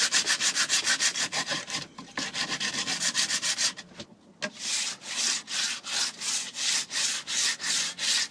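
An old axe's wooden handle is sanded smooth by hand in long, regular back-and-forth strokes, loud and close, with a short pause midway before the rhythmic rubbing resumes.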